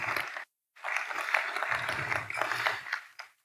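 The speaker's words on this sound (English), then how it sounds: "Again, a round of applause for our sponsors," Audience applause at an association annual general meeting, a steady clatter of many hands clapping at moderate distance after a short silence, fading out near the end.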